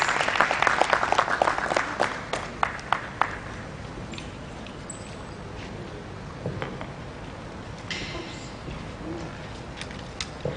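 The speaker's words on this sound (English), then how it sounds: "A round of applause for Barrister Juliet, please" Applause greets a barrister's welcome remarks at a conference on financial fraud and cyber crime, a burst of clapping that rings out over the first few seconds and then thins into a murmuring room with scattered claps.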